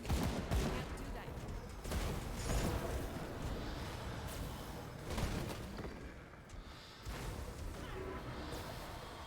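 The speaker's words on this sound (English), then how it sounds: "Some explosions going on the background." Explosions in the Grim Dawn action role-playing game around Port Valbury: a dense, loud run of blasts and crackling gunfire-like bursts, with several sharp booms standing out over a constant roar.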